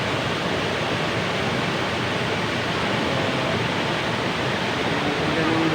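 Talon Pari (Kalumpari) Falls in Doña Remedios Trinidad roars with a constant dense wash of falling water, loud and close, unbroken for several seconds with no talk.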